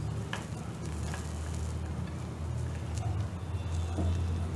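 Taro root (arbi) pieces frying in oil over a low flame, giving a steady, close sizzle with soft crackles and a low hum running throughout, with no talk over it.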